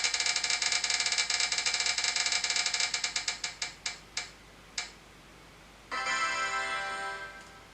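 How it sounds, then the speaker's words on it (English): A prize wheel spins with rapid ticking that gradually slows to widely spaced clicks and stops, followed by a brief brighter rattling burst near the end; clear and close with no talking. "So let's spin the wheel."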